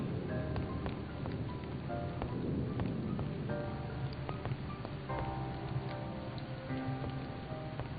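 Rain and a storm from the video game And Then There Were None, a steady patter of drops with scattered ticks and low rumbling underneath, a continuous wash with no voices.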